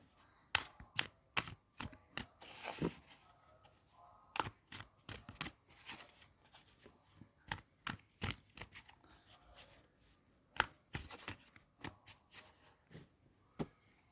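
Tarot cards being shuffled and drawn from a deck, a quiet, close series of irregular crisp flicks and snaps with no talking.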